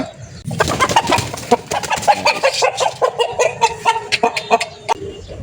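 Several country chickens in a breeder shed cluck and squawk in short, irregular bursts, fairly close, with a busy flock-like chatter.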